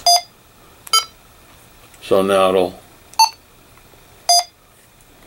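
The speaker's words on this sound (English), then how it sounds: "it'll send off certain beeps depending on what you're doing" Key beeps from a Kenwood TH-F6A handheld radio: four short, sharp electronic tones spaced about a second apart, close and clear, with a brief spoken phrase between them.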